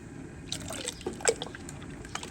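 Water trickles and drips briefly into a pot of fruit compote made with apples, a soft, close, quiet pouring sound with no talking.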